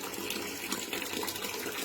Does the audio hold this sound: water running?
yes